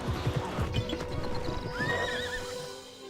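Horse hooves clip-clop in the Alexandra Ledermann riding video game, a quick run of footfalls early on, followed by a horse's whinny, all close and clear with no talking.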